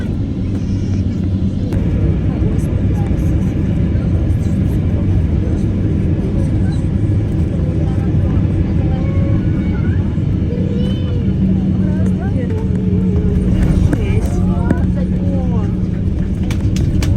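A low, steady rumble of airplane cabin noise fills the flight, continuous and fairly loud, with faint speech and murmurs in the background throughout.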